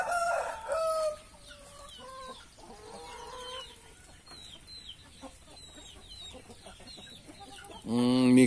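Chickens and a rooster in a backyard coop cluck and crow nearby, with short squawks and calls scattered throughout and a louder crow at the start and end.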